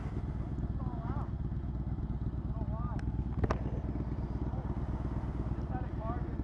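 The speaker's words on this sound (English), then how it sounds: "bike is obnoxiously loud now with his new pipes" Loud motorcycle with new aftermarket exhaust pipes riding alongside other bikes, a steady low engine drone throughout with a few brief sharp clicks, while someone talks over it.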